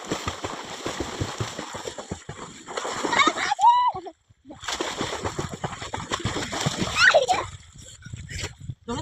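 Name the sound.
water splashing as a child swims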